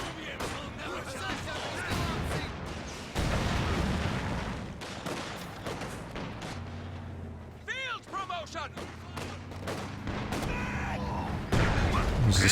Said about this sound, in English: There's this barrage going into the garrison here.